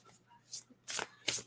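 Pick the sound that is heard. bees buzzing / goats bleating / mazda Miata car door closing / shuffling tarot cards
shuffling tarot cards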